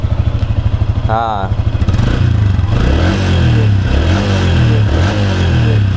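Stock, unmodified exhaust on a Yamaha Exciter or Honda Winner motorcycle, idling with a rapid putter, then revved hard into a loud sustained roar with rising and falling pitch close to the microphone, a brief voice at the start.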